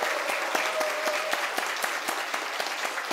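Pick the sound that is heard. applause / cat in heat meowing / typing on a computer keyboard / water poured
applause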